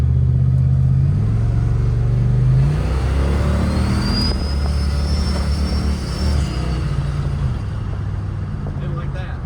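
A turbocharged police car with over 550 horsepower accelerates hard, its engine note climbing, dropping with a gear shift, then rising again, loud and close throughout.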